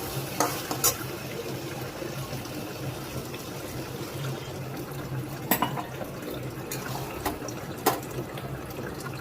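Water is poured into masala frying in a pan, giving a steady bubbling sizzle. Now and then comes a scrape of stirring or a sharp clink of a utensil against the pot, with no talk.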